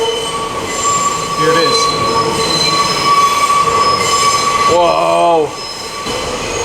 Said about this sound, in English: the train is now going back uptown